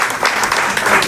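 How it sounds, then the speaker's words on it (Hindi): An audience at an award ceremony claps loudly and steadily, a dense burst of applause from a crowd filling the room for about a second. "एक बार जोरदार तालियां बजा दीजिए।"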